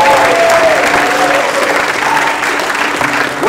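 Audience at a Christian recovery conference in Florida cheering and applauding loudly, a dense steady wash of clapping with whoops and shouts throughout, near and sustained.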